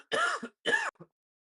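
A man clears his throat twice in quick succession, close to the mic, during a GT7 NASCAR racing session stream, with a faint short rasp trailing after and silence around it.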